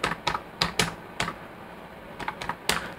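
Keys clatter on a computer keyboard as a Linux install command is typed, a quick irregular run of close, crisp clicks with short pauses between bursts.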